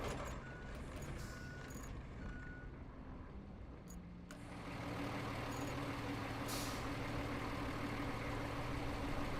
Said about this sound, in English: The backup beep is so annoying.